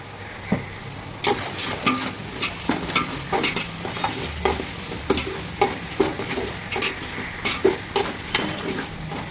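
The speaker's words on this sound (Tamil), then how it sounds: "இஞ்சி பூண்டு நல்லா வதங்கணும்." Ground ginger garlic paste frying in a pan for country chicken kurma, with a steady sizzle broken by repeated scraping, tapping strokes of the spoon stirring it, close and clear.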